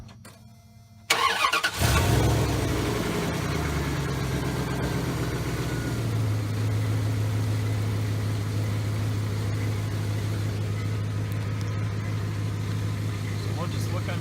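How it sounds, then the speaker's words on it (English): A 1997 Dodge Ram 1500 pickup engine cranks briefly and catches, then settles into a steady, loud low idle that runs on close by without interruption. "we will start the truck up and check for leaks"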